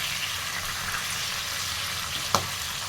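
Spices with salt and turmeric fry in a pan with a steady, even sizzle, close and moderately quiet. A single short clink from a utensil comes near the end.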